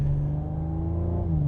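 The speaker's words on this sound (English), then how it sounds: "I'm sure there's some clever electronic piping that's going on that's feeding me noise that isn't actually all produced by the engine" A 2021 Audi S5 Sportback engine revs in a smooth, rising and falling drone, heard up close and sustained, with no talk over it.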